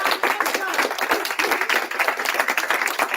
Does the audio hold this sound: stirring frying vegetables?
no